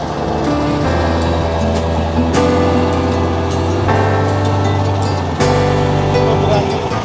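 A trawler travelling at sea off Patharghata gives a loud, continuous engine drone with a humming tone that shifts pitch a few times, over a constant wash of water.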